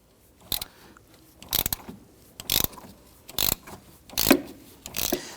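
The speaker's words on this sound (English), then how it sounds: "or you can use your ratchet like I'm doing." A hand ratchet with a 12mm socket and extension loosening a clamp bolt on a 2011-2015 Kia Sorento 2.4L engine, heard as six short bursts of rapid clicking separated by brief pauses, close up with nothing else present.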